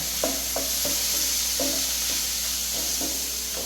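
Beef and koorka (Chinese potato) frying in a pan, a constant close sizzle punctuated by repeated spatula scrapes and stirring knocks at an irregular rhythm, with no talking.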